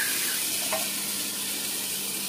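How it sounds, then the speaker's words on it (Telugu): Rava dosa batter poured thin from above onto a hot oiled pan gives a steady, loud hiss of sizzling that fills the whole moment without pause. "ప్యాన్ మీద కొంచెం ఆయిల్ వేసుకొని అప్పుడు రవ్వ దోశని గ్లాస్తో కానీ గెరిటితో కానీ మీకు ఎలా కుదిరితే అలాగా వాటర్ లాగా పైనుంచి పోసుకోవడమే"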